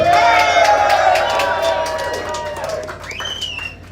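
Rally crowd at a reseller event cheers and claps for a man named Richard, a burst of whoops and applause that fades over a few seconds, with a voice briefly heard among the noise.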